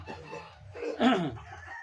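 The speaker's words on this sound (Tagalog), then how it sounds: "Maraming manok yung" Chickens cluck nearby around a house, and a rooster lets out a short, loud crow in the middle, with no talking.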